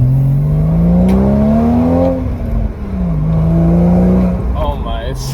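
Porsche 981 fitted with a Becker S type exhaust, running as a steady low engine drone that rises and falls with throttle, fairly loud and continuous, with a voice speaking over it.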